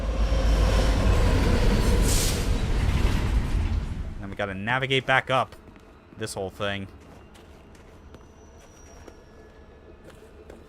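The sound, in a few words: trains passing by in video game Alpha Protocol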